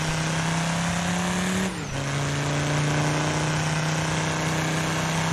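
Car engine in the DIRT 5 racing game holding a steady high drone, dipping briefly near the two-second mark as if shifting gear, then resuming its loud continuous note with faint tire noise.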